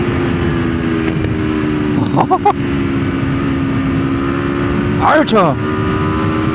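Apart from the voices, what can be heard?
Aprilia RSV4 Factory motorcycle riding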